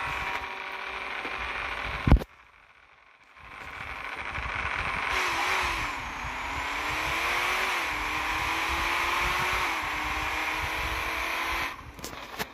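Ryan Martin's Fireball Camaro running close by, a loud steady drone that cuts out abruptly for about a second, then builds back as the engine climbs through gears with a rising, sustained roar.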